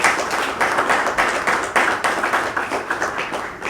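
Audience at an anniversary celebration applauding security agents, a dense burst of clapping from many hands, close and lively and steady throughout.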